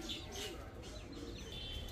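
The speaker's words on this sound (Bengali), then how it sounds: "একদম টকটকা লাল গিয়ারের একটা কালদম নর কবুতর" A male Kaldom pigeon coos softly and faintly in short murmuring phrases, with a few light chirps from other birds nearby.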